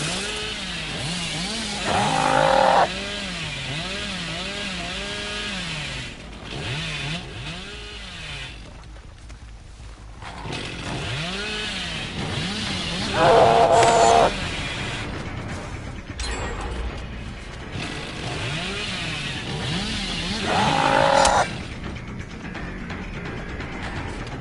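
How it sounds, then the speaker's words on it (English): A chainsaw in the video game Dead by Daylight, revving in repeated waves: a loud buzzing motor rising and falling, with three sharper high-pitched surges spaced several seconds apart, no voices. "I just breezed by his head with my chainsaw."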